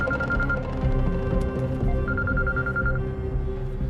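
A telephone rings unanswered, two bursts of trilling electronic ringing close by over a busy, humming background.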